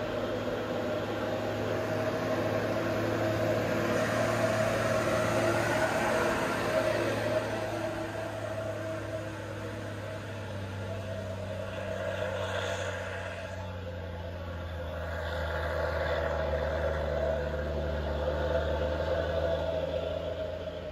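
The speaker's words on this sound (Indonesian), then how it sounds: "Truk tangki muatan CPO dari Melabuh melewati Tanjakan Sare menuju ke Kota Medan" A tanker truck loaded with crude palm oil labours up the winding Tanjakan Sare climb toward Medan, its steady engine drone and shifting tonal whine held at mid distance over a hissy road wash for the full stretch.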